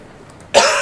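One short, sharp cough bursts out near the end after near silence, close and fairly loud.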